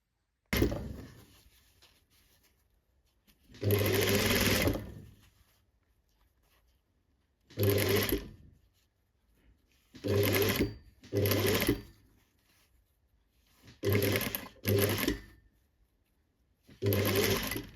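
A sewing machine stitches bias binding along its pre-folded crease in short, separate bursts of fast whirring, with quiet pauses between runs, close and clear.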